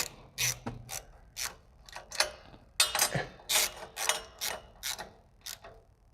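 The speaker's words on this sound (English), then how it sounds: "just going to Use my 13mm deep socket here again" A ratchet fitted with a 13mm deep socket tightens exhaust nuts on an Aston Martin DB9, producing loud close bursts of quick clicking strokes in an uneven rhythm with short pauses between them.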